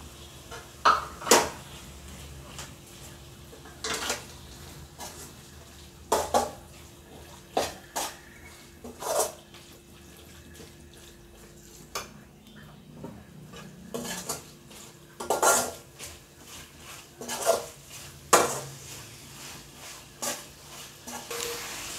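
Small chicken pieces sauté in a pan for a biryani as a metal spoon scrapes and clanks against it at irregular intervals, under a faint sizzle with no talking.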